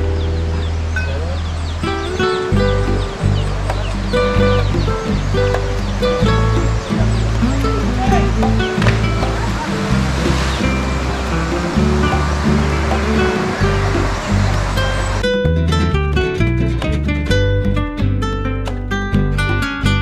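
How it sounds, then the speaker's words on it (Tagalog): Clear river water rushes and splashes steadily close by at the Marcos River in Cawayan, Calinan, Davao City, a loud continuous wash with faint birdsong mixed in. "And this is the Marcos River."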